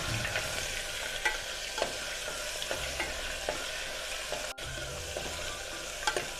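Garlic-ginger paste and curry leaves sizzle steadily in a hot pan while a spoon scrapes and stirs with soft repeated clicks, close and continuous without talk.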